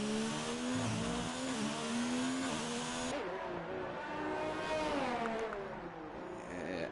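An F2 race car on a lap of the Singapore street circuit in a racing game, its high-pitched engine screaming loud and close, pitch climbing and dipping through upshifts and a brief downshift, with no voices.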